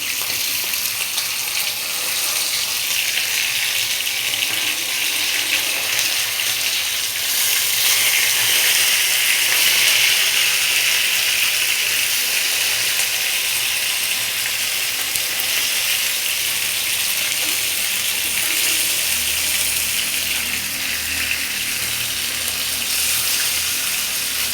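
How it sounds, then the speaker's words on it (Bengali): A big catla fish fries in a pan, giving a steady broadband sizzle and hiss that stays at an even level throughout with no talking. "মাছ ভাজা হচ্ছে।"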